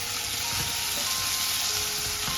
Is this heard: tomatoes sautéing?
yes